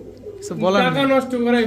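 A single close, loud coo comes from pet pigeons of breeds such as Pakistani teddy, Kamargar, Golden and Saharanpuri, a soft rolling throaty call lasting just over a second.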